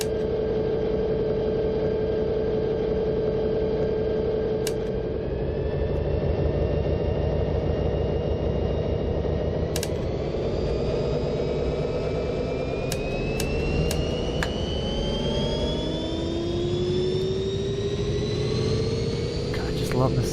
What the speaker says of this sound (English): Love the sound of those engines spooling up.